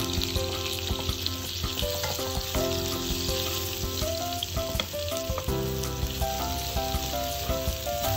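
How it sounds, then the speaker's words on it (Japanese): Ostrich meat fries in sesame oil in a hot pan with a loud, close, crackling sizzle that runs continuously, broken by small pops and spatters. "熱したフライパンにごま油をひき、ダチョウ肉を焼いていきましょう。"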